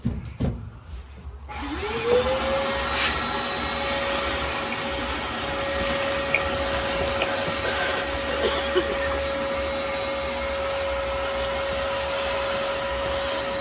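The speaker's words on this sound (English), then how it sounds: "That's about the poorest excuse of a vacuum cleaner I've ever used." A vacuum cleaner switches on and spins up to a steady, loud whine with a constant droning hum that continues without pause.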